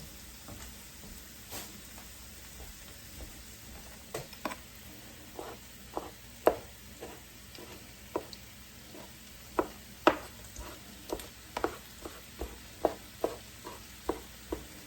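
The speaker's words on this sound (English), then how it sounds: "I'm going to give these a chop." A knife chops mushrooms and onions for homemade chili on a cutting board, a faint series of sharp taps that quicken into a steady rhythm toward the end.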